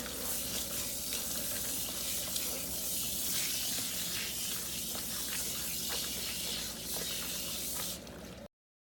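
Running tap water rinsing hair during a salon keratin and color treatment, a steady close hiss and splash that holds for about eight seconds and then cuts off abruptly, with no talking.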